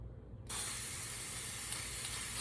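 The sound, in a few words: spray painting numbers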